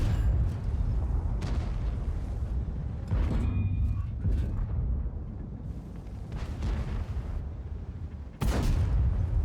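Tank cannons firing in World of Tanks come through as several deep, booming blasts spread out at intervals over a low rumbling battle background, with a sharp loud report near the end.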